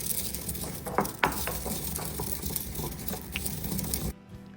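Pink peppercorns, about a tablespoon, crushed in a mortar and pestle give a steady gritty grinding and crackling, with a few sharper cracks early on, close and continuous, and then it stops abruptly.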